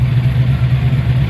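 A supercharged car engine idles on E85 with a blower, a loud, close, steady low rumble with a slight rhythmic lope.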